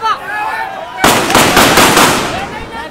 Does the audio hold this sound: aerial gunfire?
yes